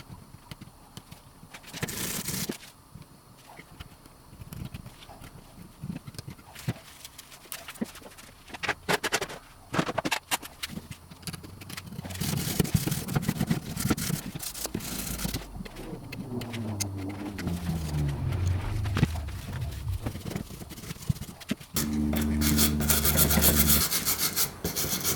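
A dentist tool scrapes old finish out of carved details on a wooden side table being stripped, giving close, irregular bursts of gritty rubbing and scratching with pauses between strokes.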